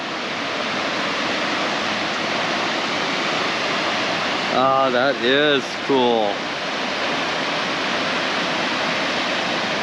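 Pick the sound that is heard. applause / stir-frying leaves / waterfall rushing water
waterfall rushing water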